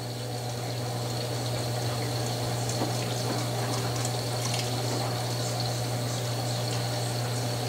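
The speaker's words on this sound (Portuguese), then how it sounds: "E agora ela vai encher de água." An Electrolux Ultimate Care 11kg/7kg front-load washer-dryer filling with water during a blanket wash, a steady hiss of inflowing water over a constant low machine hum.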